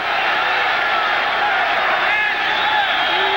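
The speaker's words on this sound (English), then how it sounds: "the crowd urging this Cincinnati defensive unit on" A football stadium crowd roars steadily to urge on the Cincinnati defense during a 1980 Oilers–Bengals game, a broad sustained din with scattered shouts and a broadcaster's voice over it.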